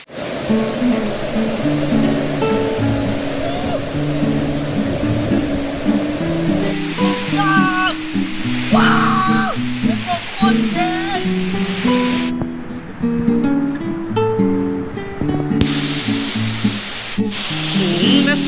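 A large jungle waterfall, Huai Khi Thoe falls in Thailand, keeps up a steady, loud broadband roar through the whole stretch, while music and shifting tones sit over the rushing water.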